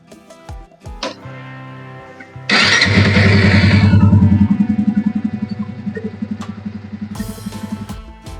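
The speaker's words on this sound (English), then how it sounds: "let's turn this thing on and start the bike." A two-wheeler motorcycle, just fitted with a new spark plug, cranks and fires up after some clicks, roars briefly, then settles into a steady idle close by, with another click and a short burst near the end.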